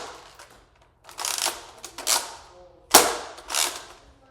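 A Nerf Fortnite blaster being fired and reloaded, heard as a series of sharp plastic snaps and clacks, some with quick sliding rasps, in close, irregular bursts with no talking.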